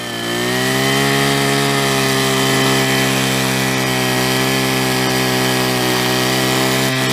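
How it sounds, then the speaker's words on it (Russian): A petrol ice auger's small two-stroke engine drones loudly and steadily, revving up at the start then holding a constant high whine throughout. "Это мотобур."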